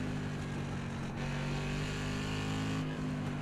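A race car engine in the iRacing sim game drones steadily and evenly at a constant pitch for the whole stretch, with only a slight dip partway through.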